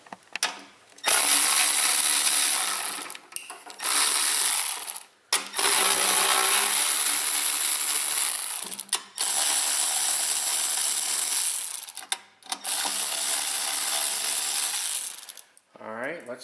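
A power tool on an Ariens snow blower removes the screws holding a cover. It whirs loudly in several long runs separated by brief pauses, close up and with no talk.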